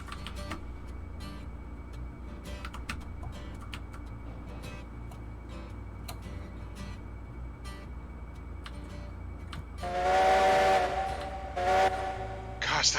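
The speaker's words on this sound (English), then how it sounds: "Gosh, that whistle is so loud." In the train game Railroads Online, a Heisler steam locomotive gives a loud whistle blast lasting about three seconds. Steady ticking and mechanical chugging from the engine play underneath it.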